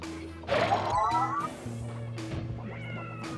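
A cartoonish meow from the awkward noise generator, a botched gadget in the puzzle game Quantum Conundrum, sounds loud and close, followed by softer game sounds.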